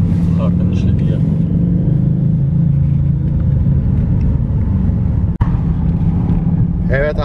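Harley-Davidson V-Rod motorcycle engine rumbling loud and steady inside a road tunnel, a continuous low drone with one sharp knock near the end; a voice briefly talks over it.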